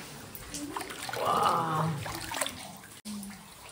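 Water flows inside Mawsmai Caves in the Khasi Hills of Meghalaya, a continuous rushing wash with splashy texture, and a voice briefly murmurs over it midway.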